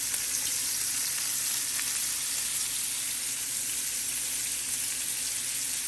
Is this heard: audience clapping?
no